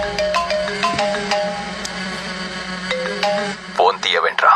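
A phone rings during a tense scene in a Telugu comedy film. The ringtone plays as a repeating electronic melody in short tonal bursts, mixed with film audio, and a voice breaks in near the end.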